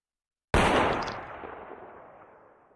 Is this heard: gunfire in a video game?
yes